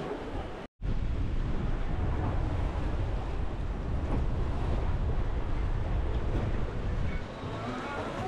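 Strong wind and breaking waves surround an Excess 11 sailing catamaran heading upwind in about 50 knots of wind, with a constant loud rush and heavy wind buffeting on the microphone, briefly cut out near the start.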